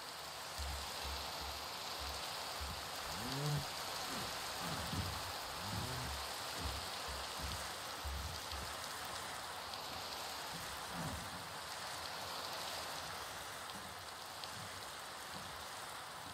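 Steady rain falls in Minecraft, a continuous hiss of drops spread evenly throughout, with a few soft low thumps and scuffs early on and no talking.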